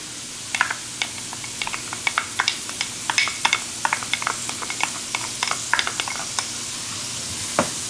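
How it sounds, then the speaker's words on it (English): Four cloves of chopped garlic sizzle in a pan under a spoon stirring them around, with a steady close frying hiss and a scatter of sharp scrapes and taps, and no one talking. "And we're going to stir this around."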